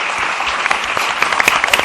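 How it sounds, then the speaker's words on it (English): An audience at a consular presentation applauds diplomats, a dense burst of close clapping that carries through the whole short clip with no pauses. "How about a round of applause for all our diplomats?"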